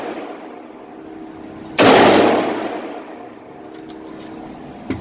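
A single loud AR-15 rifle shot cracks out at close range outdoors, its broad blast tailing off into a lingering echo, with quiet ambient noise before and after.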